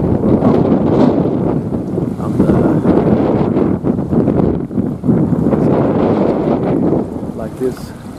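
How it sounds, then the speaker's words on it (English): Strong wind blows over open water on a Norwegian fishing trip by boat, roaring and buffeting the microphone in continuous loud gusts with splashing waves underneath. "so there is still a lot of wind"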